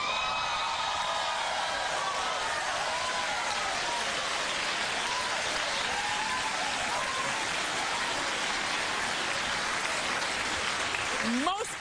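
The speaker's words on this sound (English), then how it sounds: "Most people are clapping, Sherri, not everybody." A studio talk-show audience claps steadily, a dense, even wash of applause sustained throughout, with a brief whoop near the end.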